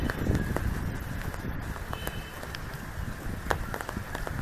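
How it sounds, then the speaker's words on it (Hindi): Steady patter of raindrops hitting a nearby surface, dense and even, with occasional sharper drips and no talking. "बारिश की बूंदें भी गिर रही है"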